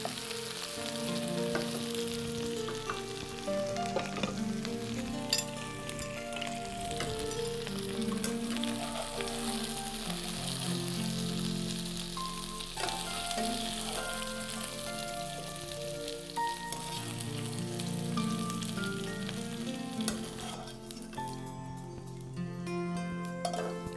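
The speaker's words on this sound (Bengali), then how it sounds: "কাঁচা কাঁঠাল ভাজা হয়ে গিয়েছে" Raw jackfruit pieces sizzle steadily in hot oil for a jackfruit biryani, a continuous crackling fry with occasional stirring clinks, close and fairly loud, with no talking.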